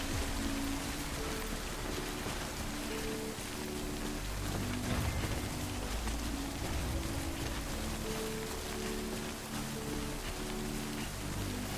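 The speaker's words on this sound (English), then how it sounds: "if I want to, I can wait in the rain over there" Steady rain falls in the video game Death Stranding, an even, dense hiss of drops on surfaces that continues unbroken throughout, with a faint low rumble beneath it.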